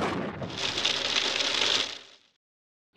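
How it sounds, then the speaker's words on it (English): Hail pelting a pail, a dense close rattle of many small hits that runs steadily for about two seconds and then stops. "Hail hits the jail pail."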